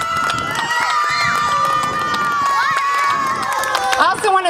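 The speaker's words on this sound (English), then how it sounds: "Let's give them a round of applause" An audience at a local fashion show cheers with whoops and shouts, forming a steady, loud crowd roar that stays even throughout.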